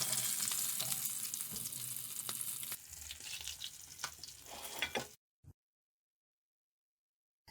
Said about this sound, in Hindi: दूसरे पीसेस को हम फ्राई कर लेंगे